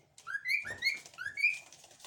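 A parrot in a video game gives a series of four or five short, shrill whistling squawks in an uneven rhythm, close and clear with no speech over them.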